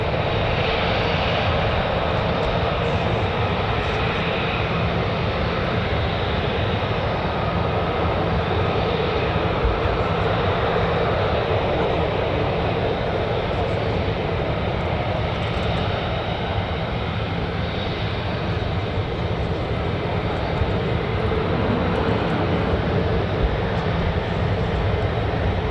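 F-35A fighter jets passing overhead at a USAF 48th Fighter Wing RAF base, a continuous broad jet roar that stays loud and steady throughout, with no talk.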